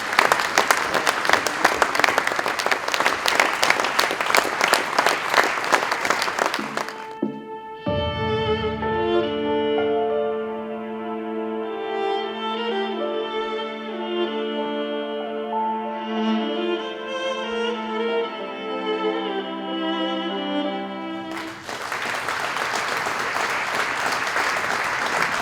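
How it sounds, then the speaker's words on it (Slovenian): An awards ceremony audience applauds the 2022 Bloudek plaque recipient. Loud, full crowd applause runs for several seconds, gives way to a stretch of music, then returns strongly at the end. "ta aplavz naj bo namenjen prejemniku Bloudkove plakete za leto 2022, Toniju Vodišku"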